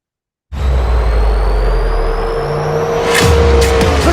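Vintage sports race car engines roar loudly and continuously on a race course, one passing close with a rising whine and brief high bursts near the end.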